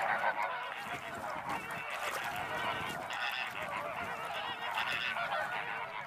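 A large colony of greater flamingos in the Po Delta lagoons keeps up a dense, continuous goose-like honking and gabbling chorus, loud and unbroken throughout.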